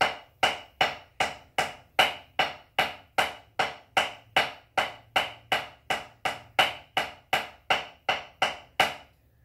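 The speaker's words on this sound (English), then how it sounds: "The sticking for that would be right, right, left, left, left, right." A drum played slowly in the 2-3-1 triple stroke sticking of the Shirley Murphy inversion, a steady stream of about 25 crisp, evenly spaced strokes, close and clear with no talk.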